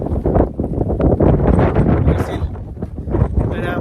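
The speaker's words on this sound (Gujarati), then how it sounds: "વિન્ડી એટલે પવન બહુ આવે ને." Strong gusts at Funderworld theme park in the UK buffet the microphone with loud, rumbling wind noise, while a person talks over it.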